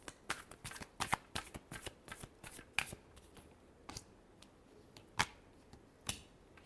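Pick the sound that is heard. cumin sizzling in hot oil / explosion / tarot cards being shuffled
tarot cards being shuffled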